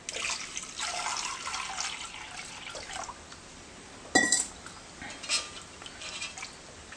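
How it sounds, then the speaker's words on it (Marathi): A jug of water is poured over tamarind in a kitchen, a steady, hissing splash for about three seconds, followed by quieter trickles, a sharp clink and a few faint drips. "आणि ह्यामध्ये मी आता घालणार आहे एक तांब्याभर पाणी"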